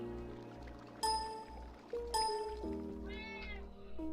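A pet cat meows several times at close range, each call drawn out and tonal, alongside brief game chimes and a low steady hum in the background.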